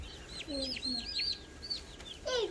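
Many high chirping peeps from young Black Spanish turkey poults and chicks, overlapping and continuous, with a few lower clucking notes and a brighter burst of peeping near the end.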